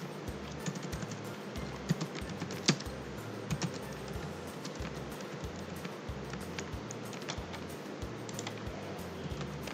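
Steady typing on a computer keyboard, close and fairly quiet, with irregular key clicks and a few louder taps, while a rhythmic low background pulse continues throughout.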